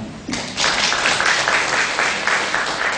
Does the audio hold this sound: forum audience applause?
yes